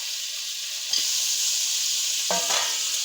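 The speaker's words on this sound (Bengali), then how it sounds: "এবারে আলুটা দিয়ে দিচ্ছি" Potatoes frying in hot spiced oil for a Bengali koi fish curry: continuous bright sizzle, with two sharper bursts of crackle and clatter as pieces are added and stirred, no talking.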